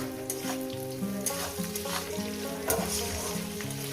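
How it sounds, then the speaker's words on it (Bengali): Green chilies frying in a pan over medium heat for a Bengali doi chingri (yogurt prawn) dish, giving a loud, continuous crackling sizzle with sharp spattering pops and background music. "কাঁচা লঙ্কাটা দিয়ে এক মিনিট ভেজে"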